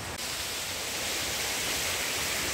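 A jungle waterfall in Meghalaya gives a steady, dense rush of falling water that fills the whole clip, close and loud with no voices over it.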